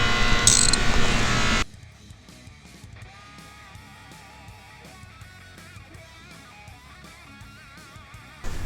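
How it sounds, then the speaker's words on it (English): A ratchet fitted with an extension, universal joint and 13mm socket clicks rapidly up close while snugging header bolts on an Indian motorcycle, a fast metallic pawl chatter after a brief loud noise at the start. "I'm using an extension with a universal joint and just a 13mm socket, and that should be able to reach all of them."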